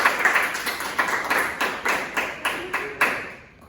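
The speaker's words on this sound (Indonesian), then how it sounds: "Tepuk tangan dulu buat Arifal." Classroom of students clapping for a classmate, a sparse, uneven burst of separate hand claps in a loose rhythm that thins out and fades after about three seconds.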